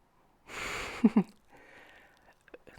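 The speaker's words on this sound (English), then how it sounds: "Sniff test first." A long sniff of food close to the microphone, a tarte flambée with smoked miso-brined beets, followed by two quick sharp snorts of breath, then quiet.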